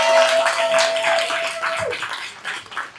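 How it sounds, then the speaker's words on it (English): A comedy club audience applauds for people celebrating that night, a dense burst of clapping with a few whoops that tapers off over a few seconds. "let's clap it up for all the people celebrating with us tonight"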